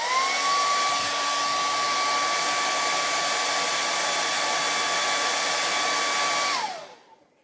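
A handheld hair dryer blows over a chalk-painted Christmas deer cutout, making a loud, steady whine and rushing air for about six and a half seconds before it switches off and winds down.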